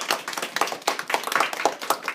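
A small audience claps together in a brisk, uneven burst of hand claps, close and fairly loud, lasting a couple of seconds without voices.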